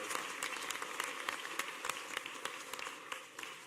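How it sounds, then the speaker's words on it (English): Campaign town hall crowd in Des Moines, Iowa, applauding steadily, a faint, somewhat distant wash of many hands clapping with scattered sharper individual claps, tapering slightly toward the end. "give him another round of applause"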